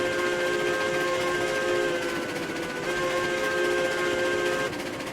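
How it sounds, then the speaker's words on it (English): A steam locomotive in the RailRoads Online video game runs along the rails with a sustained whistle-like tonal hiss over a steady chuffing, rumbling roll, continuous and moderately loud with no speech. "Steaming down the rail."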